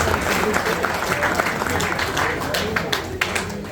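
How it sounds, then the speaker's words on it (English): Applause from an awards-night crowd for the venue staff at a V8 Hotstox racing club's 40th anniversary dinner, steady dense clapping filling the room with voices mixed in throughout. "So a round of applause for all our ladies and gents"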